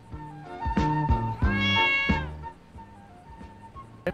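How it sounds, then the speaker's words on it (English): A cat meows in the video game GTA 5: several close, loud, drawn-out meows, with the longest in the middle, then a brief chirp at the end, heard on its own without talk. "Is there a cat? Did you hear a cat?"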